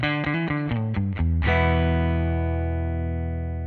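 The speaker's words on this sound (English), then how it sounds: "pull back on this bass shelf EQ, and you'll kind of hear that bass get cleaned up a bit" Distorted electric guitar with its bass shelf EQ pulled back plays a quick run of picked notes, then one strummed chord that rings out and slowly fades, loud and close.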